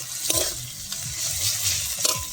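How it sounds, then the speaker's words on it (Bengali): Spice masala fries and sizzles in a pan while a spatula stirs it, giving a few short scraping strokes over a steady hiss, close up, with no talking. "ফের কষিয়ে নেবো ভালো করে নেড়ে চেড়ে"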